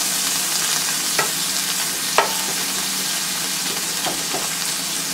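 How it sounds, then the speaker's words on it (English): Onions fry in a pan for an Irish shepherd's pie, a loud continuous sizzle with a few light spatula scrapes and taps. "So you will just get these onions started slightly."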